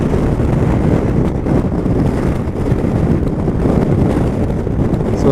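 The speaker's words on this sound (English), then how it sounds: "The wind is just relentless." Strong gale-force wind buffets the microphone with a loud, continuous roar that barely lets up.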